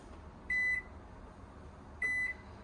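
Two short electronic beeps sound from the button panel of a microwave convection oven air fryer in a Forest River Salem Cruise Lite travel trailer, spaced about a second and a half apart over a quiet background.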